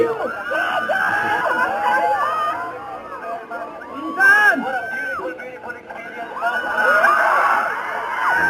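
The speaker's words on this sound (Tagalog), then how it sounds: "Sigaw pangalan ni Daniel Padilla" Crowd of fans in Marawi cheering and shouting Daniel Padilla's name, a dense, loud mass of overlapping excited voices and shrieks that swells in bursts, with surges of yelling near the middle and end.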